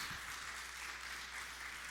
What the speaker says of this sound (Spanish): ¿Cuánto le dan otra vez una ofrenda de palmas a Dios?